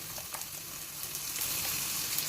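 Onions sizzle in a pan with ginger and garlic, a steady soft frying hiss with faint crackles, close and fairly quiet with no talk.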